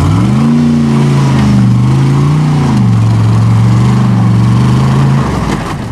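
A 6-liter engine revs hard while the vehicle drives off-road on a trail, a loud, close, sustained roar whose pitch climbs, dips and wavers under load for several seconds before easing off at the end.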